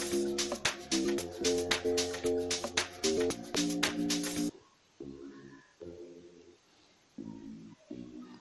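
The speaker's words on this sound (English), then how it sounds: "TTC bass, which sounds like this" A TTC bass instrument from FL Studio Mobile plays in an amapiano sgija-style beat, starting dense with rapid percussive hits, then thinning to a series of deep, separate bass notes with pauses between them.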